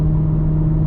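A Maserati GranTurismo engine pulls on an empty road, giving a brief, loud, steady mid-pitched drone that holds a constant tone.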